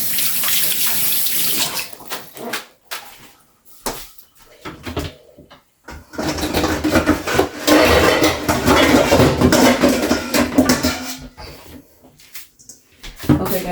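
Tap water runs into a kitchen sink as salmon fillets are washed, a loud steady splashing stream that stops and restarts in several bursts, close by with no talk.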